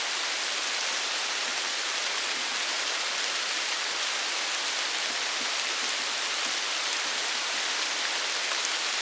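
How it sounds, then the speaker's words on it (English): Hard rain pours down outdoors in the French countryside of Petite Creuse, a dense, even hiss of drops that carries on steadily without a break and without any voices. "the rain's getting hard enough"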